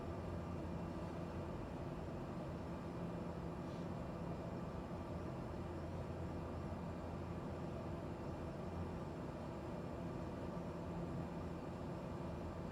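Steady, even drone of a Cessna Caravan's turboprop engine at cruise in a flight simulator game, a constant broadband hum holding level and unbroken throughout with no voices.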